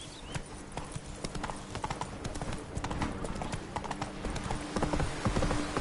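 Horse hooves clip-clop steadily at a gallop in The Witcher 3, a continuous rhythmic pounding that stays close and grows slightly louder toward the end.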